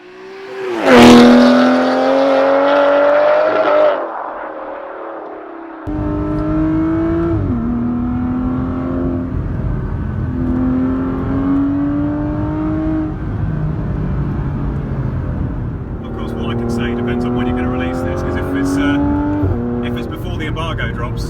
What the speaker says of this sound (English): an Aston Martin made of carbon fibre